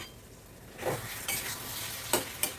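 Fish curry simmers quietly in a clay pot with a soft, steady bubbling hiss, broken by a few light clinks of a utensil.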